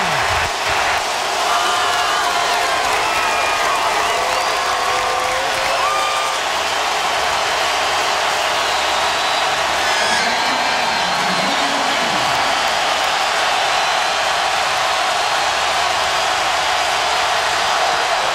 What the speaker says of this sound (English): This crowd fully engaged now.